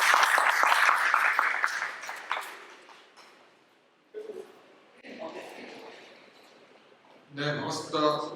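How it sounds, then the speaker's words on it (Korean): An audience at a Seoul startup event applauds in a dense burst that fades over about three seconds, followed by scattered sounds and a voice starting to speak. "박수로 환영해 주십시오."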